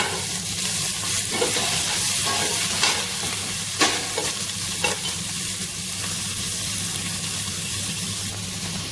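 Onions fry with garlic in a hot pan, producing a loud, continuous close-up sizzle with a few quick stirring scrapes scattered through it, and no voices.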